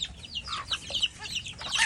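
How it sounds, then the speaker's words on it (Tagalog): Several hungry farm chickens cluck and squawk busily together, a dense chorus of short overlapping calls close by. "Ito naman yung mga manok natin dito. Gutom na, oh."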